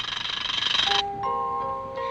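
A magical clock chimes at midnight on Christmas Eve in a Christmas movie, a bright shimmering tone that gives way to a few clear sustained bell-like notes, loud and close.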